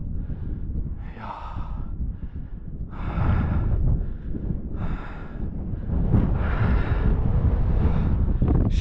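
Wind gusting across an open treeless mountain slope in the Fann Mountains of Tajikistan, buffeting the microphone in loud rolling bursts with heavy breathing from hikers close by.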